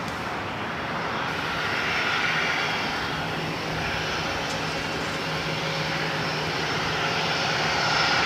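A Gulfstream G650 ER jet at LAX gives a steady, loud, broadband engine roar with a constant whine, sustained and close throughout.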